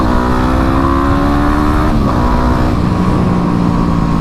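Yamaha WR250R dual-sport motorcycle engine revving hard under acceleration, a loud, close, buzzing whine climbing in pitch through the gears, with a brief dip at a shift before pulling up again steadily.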